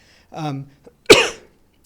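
Two coughs a moment apart from a man recovering from illness, the second sharper and louder, close to the listener with quiet around them.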